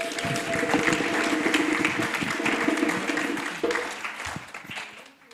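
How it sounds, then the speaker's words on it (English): Conference audience at the 47th Annual Caribbean Studies Association gathering applauds Professor Megan Sylvester, a steady roomful of clapping sustained for several seconds before thinning out toward the end. "I'd like to give her a round of applause publicly."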